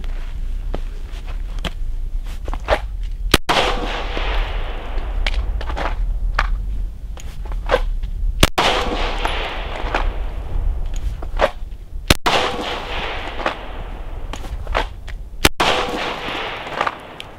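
A handgun with a red dot optic fires single rounds on a range, four sharp, loud reports spaced several seconds apart, each with a trailing echo, and faint clicks and handling noise fill the gaps.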